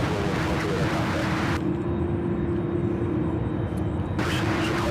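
A UPS Boeing 767 cargo jet from JFK climbs out at Louisville, giving a steady, loud engine roar with a sustained hum throughout and a sharp shift in the high hiss partway through.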